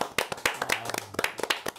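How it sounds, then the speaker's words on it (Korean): A small group claps hands together at the start of a Korean studio discussion program, quick irregular sharp claps over a couple of seconds, fairly quiet with a brief low hum beneath. "일단 시작하기 전에 우리 다 같이 박수 한번 치고."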